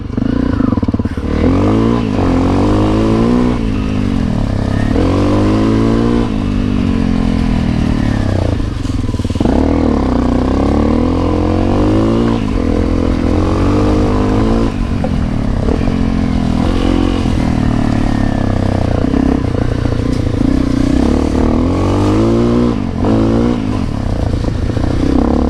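A Honda CRF250L motorcycle ridden over rough rutted ground, its engine loud and close throughout, rising and falling with throttle while chassis clatter and scraping mix in.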